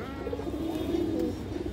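Trained pigeons kept in a loft coo in a low, steady murmur that swells slightly in the middle, close by over a hum of room noise, with no voices.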